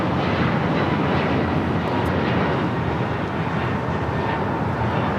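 Airliner taking off from runway 25 right at LAX, its jet engines a loud, continuous, slightly surging roar from nearby, with no talk.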